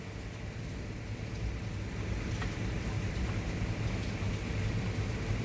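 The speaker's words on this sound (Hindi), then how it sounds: "बारिश हो रही है।" Steady rain falls in a village setting, a broad, continuous hiss with low rumbling underneath and a few faint drips, with no voices.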